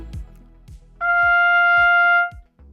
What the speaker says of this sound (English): Then if I play it on the trumpet,